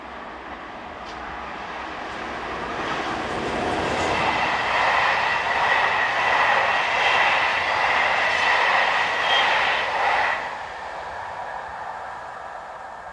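An SNCF BB15000 electric locomotive hauls a Paris to Saint-Dizier passenger train past Dormans, its rolling rumble and wheel noise swelling to a broad roar and then easing off as it passes close by.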